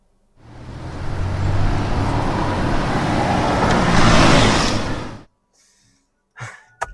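Road traffic sits at a red light, a loud, steady roar of car and engine noise that runs for about five seconds, then cuts to near silence with a couple of faint knocks.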